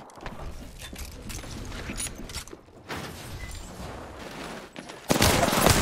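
Gunfire rattles through an Apex Legends match as bursts of automatic weapons crackle at a moderate distance, then a sharper, louder volley hits near the end.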